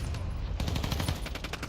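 A gunship killstreak fires on Shipment in the Call of Duty: Modern Warfare II video game, a dense rattle of rapid gunfire bursts with heavy low booms running continuously and loudly, with no voices.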